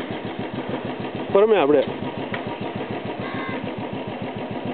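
Vehicle engine chugging with a fast, even pulse after being push-started while off-roading near Alambarai Fort, close and fairly loud, as someone speaks briefly over it.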